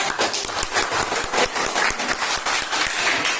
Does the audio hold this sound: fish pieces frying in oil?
no